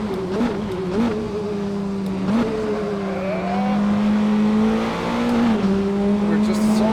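Race cars in a sim racing game on a direct drive wheelbase, steady high engine drone rising and shifting in pitch as they accelerate, with a voice talking over it throughout.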